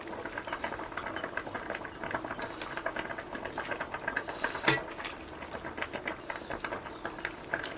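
Water for penne coming to a boil in a pot, a dense bubbling and rattling texture close up, with a sharp clink partway through.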